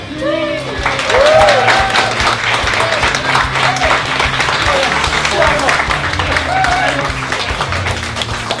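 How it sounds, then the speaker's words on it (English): Enthusiastic applause with cheers from a crowd for the cast and crew of a short film, loud and sustained, with voices calling out over the clapping. "get a fair round of applause for the cast and crew"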